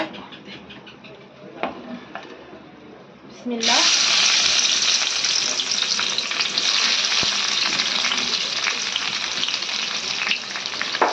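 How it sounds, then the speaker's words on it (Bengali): Onion frying in hot oil in a home kitchen, a sudden loud sizzle as the onion hits the pan, then a steady bright hiss that holds for several seconds. "তেল গরম খুব ভালো মতো হয়ে গেছে তো এখন এই যে পেঁয়াজটা আছে এখন আমি এই পেঁয়াজ দিয়ে দিব"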